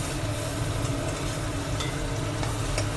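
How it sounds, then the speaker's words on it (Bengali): Onion and ground spice paste sizzling and frying in a pan for keema chana, steady crackling hiss with occasional stirring scrapes. "পেঁয়াজটা একটু ভেজে নিয়ে বাটা মশলাটা দিয়ে দেবো।"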